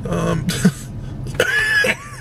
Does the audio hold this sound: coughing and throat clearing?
yes